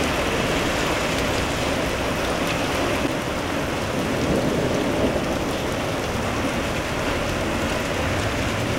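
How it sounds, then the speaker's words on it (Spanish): A hailstorm with rain and strong winds pours down in a dense, continuous roar that holds steady and loud throughout. "La fuerte granizada acompañada de lluvia y fuertes vientos"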